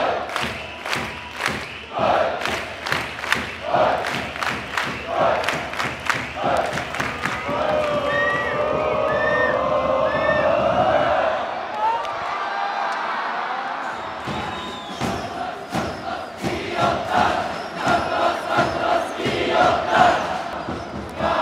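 Baseball stadium crowd in Chiba, Japan: rhythmic chanting with steady beats and claps, swelling into a sustained roar of cheering, then rhythmic chants resuming, loud and close throughout.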